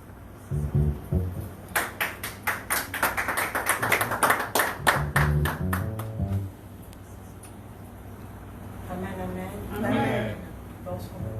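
A church congregation claps and cheers in a quick, dense burst of applause for a few seconds, which then fades into quieter room sound with speech-like murmurs and a brief vocal rise near the end.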